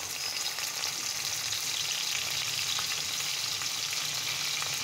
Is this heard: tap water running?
no